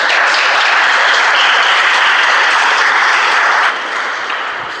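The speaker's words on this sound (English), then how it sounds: "Can we have a huge round of applause for the speaker?" Loud, dense applause from a meeting audience for a speaker at a speech event, a sustained wash of many hands clapping close by that eases slightly near the end.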